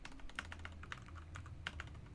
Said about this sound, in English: sorry for my sloppy typing